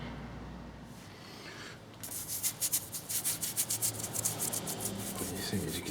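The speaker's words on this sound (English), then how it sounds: "it's got a lot of that corrosion on the alloy there, but it mostly just brushes off actually." A brush scrubs corrosion off an alloy part of an airhead cafe racer motorcycle. After a quiet start come quick, rhythmic scratchy strokes, close and moderately loud, with no talking.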